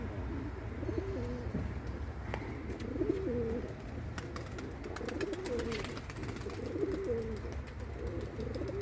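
Tumbler pigeons coo in soft, repeated rolling phrases at a moderate distance over a low background hum. A few faint clicks and flutters come in between the coos.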